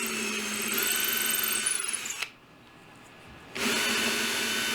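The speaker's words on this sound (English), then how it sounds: "I'm going to drill out my 2 holes per drawer" A power drill bores holes for drawer pulls through a jig on a front door entry bench, whining close and steady, stopping briefly for a second and then starting up again.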